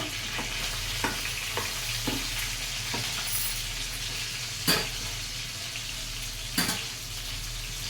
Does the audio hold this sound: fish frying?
yes